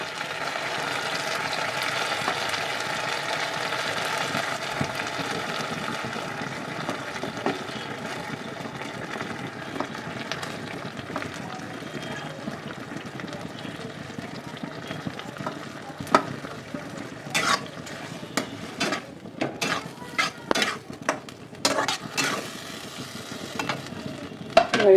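Paneer pieces frying in a pan over medium flame, a steady bright sizzle throughout with scattered sharp scrapes and clicks of stirring growing busier toward the end, close and without talk.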